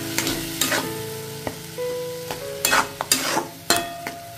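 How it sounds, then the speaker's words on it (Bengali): Tomato paste is stirred and sautéed in a pan of ivy gourd curry, producing a steady sizzle broken by repeated metallic scraping strokes and clinks, close and fairly loud with no talk. "এটা আবারও কষিয়ে নেব।"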